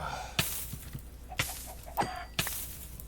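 Chickens in the Minecraft SMP video game, heard as four short, sharp clucks spaced at roughly one-second intervals over a quiet, steady background hum.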